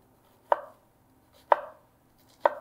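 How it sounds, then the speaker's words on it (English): A knife cuts down through an onion on a cutting board: three crisp, isolated chops about a second apart, each a clean close tap with a short fading tail, no voices. "But just cutting slices, following the natural lines of the onion, and then cutting down."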